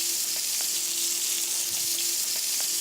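Lamb cutlet pan-frying in olive oil and butter, a continuous close hiss and sizzle with faint crackles, steady throughout with no talking.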